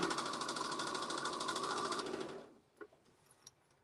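Sewing machine stitching along marked lines, a rapid steady mechanical chatter running loud for about two seconds before stopping, followed by a few faint clicks and handling noises.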